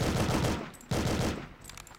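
Gunfire in the N64 game The World is Not Enough comes as two quick bursts of rapid shots, each fading out before the next begins, moderately loud and close.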